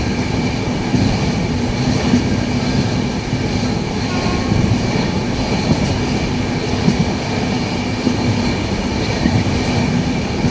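A Diva–Sawantwadi passenger train runs at speed through green monsoon countryside, giving a loud, steady rumble of wheels on rail with faint rhythmic clatter throughout and no voices.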